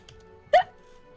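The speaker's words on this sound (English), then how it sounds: "No, it was a burp." A single short, fairly loud burp from a player during a tabletop role-playing game session, standing out sharply against a quiet room.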